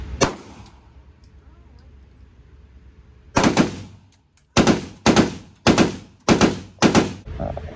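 Gunshots at an outdoor firing range: one early shot, then five loud, close booming reports spaced about a second apart, each with a brief decay.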